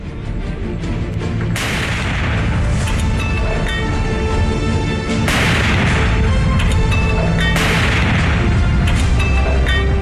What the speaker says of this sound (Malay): Sebanyak 17 kali selongsong meriam ditembakkan berbarengan dengan bunyi sirene menyambut detik-detik proklamasi